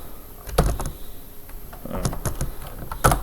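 Fingers tap a computer keyboard to enter a word into a translator, a handful of scattered close key clicks in short bursts, with no speech.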